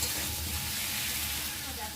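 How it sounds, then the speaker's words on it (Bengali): Ginger and garlic paste sautéing in oil with fried potato and eggplant, a steady close sizzle holding the same level throughout without pause. "একটু কষিয়ে নেবো, আদা রসুনটা।"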